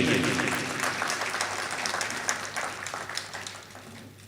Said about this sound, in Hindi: श्री अमिताभ बच्चन साहब का एक बार स्वागत है,